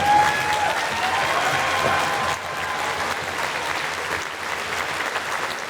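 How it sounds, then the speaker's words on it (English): Concert audience at a school band fest applauds warmly, a full steady wash of clapping from a large crowd that eases slightly partway through and continues without talk. "So we give a huge round of applause again to Lisa."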